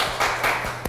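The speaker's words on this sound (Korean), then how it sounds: "우리 박수로 환영하겠습니다" A church congregation at a Sunday service breaks into dense, steady applause of welcome, many hands clapping together at once in a brief, full burst.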